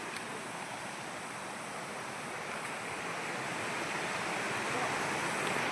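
A river flows in a steady, quiet rush of water heard from a short distance, an even broadband wash that grows slightly louder toward the end, with light wind around it.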